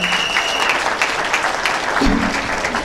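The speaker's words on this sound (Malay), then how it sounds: "Beri tepukan pada mereka." Audience applause for honorees at a Malay-language success celebration in Singapore, a sustained even wash of clapping from a crowd, with faint voices briefly audible beneath it.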